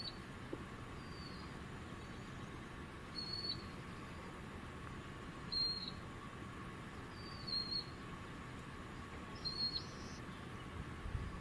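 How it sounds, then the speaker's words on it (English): A song sparrow sings somewhere in the distance in an open outdoor setting: several short, faint phrases of song repeat at intervals over a steady low rumble of background noise. "Another song sparrow."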